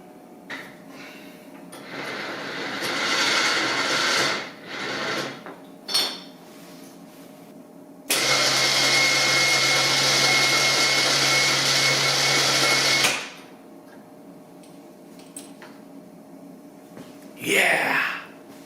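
A Badland ZXR 3500 electric winch mounted on a 2018 Honda Rancher 420 runs with a steady, loud whine and hum for about five seconds, framed by quieter clattering handling noises and a brief rustle near the end.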